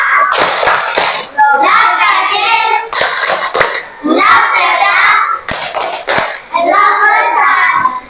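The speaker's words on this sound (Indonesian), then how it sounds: "Tadi kita ice breaking dulu tepuk cinta." A class performs the 'tepuk cinta' ice-breaker, a rhythmic clapping game: sharp, close claps in patterned bursts, with children's voices chanting in time between and over the claps.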